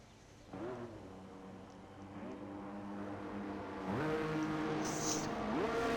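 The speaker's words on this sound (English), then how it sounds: "A whole heap of cars coming out for their first laps." Several Formula 1 cars in a racing video game pull out for their first laps at Mexico, engines rising and shifting through gears in overlapping waves, moderately loud and steady with no talk.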